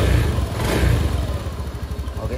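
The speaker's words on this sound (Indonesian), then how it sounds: "Kita coba starter. Nah, sudah bisa hidup" A Honda Beat Street scooter engine runs loud and close after a starter attempt, holding a steady, slightly rough idle with a faint voice underneath.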